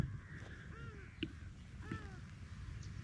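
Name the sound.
birds calling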